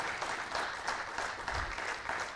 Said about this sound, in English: I request all the audience to keep clapping and give thunderous applause.